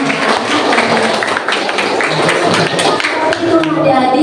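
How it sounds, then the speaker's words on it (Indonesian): Applause for a pupil named Nasman at a Buddhist religious literacy session for students, a dense, steady patter of many hands clapping at close range with faint voices mixed in. "tepuk tangan ya buat Nasman"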